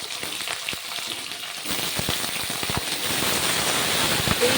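Bottle gourd pieces dropped into hot oil tempered with dried red chillies burst into loud, crackling sizzle that builds into a dense, steady fry, close and continuous.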